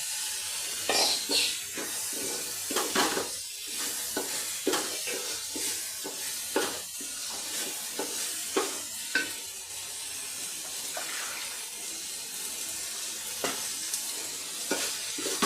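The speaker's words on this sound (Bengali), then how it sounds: "চালটাকে একটু ভালো করে কষিয়ে নেব তেলের মধ্যে ভেজে নেব" Continuous sizzle and hiss of rice frying in hot oil for khichuri, punctuated by repeated scraping stirs at an irregular rhythm, close and steady.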